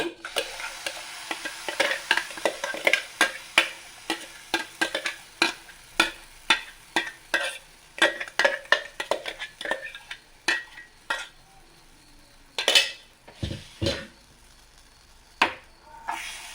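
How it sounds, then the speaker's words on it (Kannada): Mango pulp being stirred in a pan for mango laddu, a series of distinct spoon scrapes and knocks against the pan in an uneven rhythm, close and fairly loud over a quiet background, with no talking. "ಈಗ ಚೆನ್ನಾಗಿ ಮಿಕ್ಸ್ ಮಾಡಬೇಕು."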